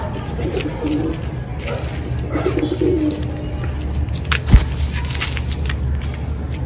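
A pigeon coos softly in a loft at dusk, low repeated burbling calls over a steady background hum, with one sharp knock midway.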